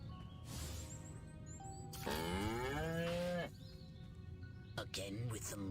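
A cow in a video game lets out a long, loud, drawn-out moo in the middle. Fainter bleeps and game sounds come before and after it, with a short sharp accent near the end.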